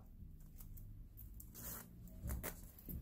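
A zipper is fitted into a bomber jacket, making soft, close rustling and brief scraping clicks of fabric and zipper teeth, quiet and irregular, with no speech.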